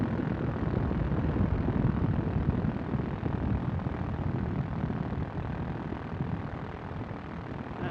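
A Quicksilver ultralight aircraft engine runs at 4,000 RPM, a loud, steady, rough propeller drone that holds constant throughout with no talking.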